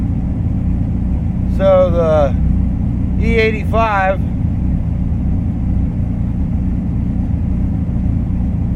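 A Honda car engine idling on E85 fuel with a Megasquirt 3x controller gives a steady low rumble throughout, with someone briefly speaking over it.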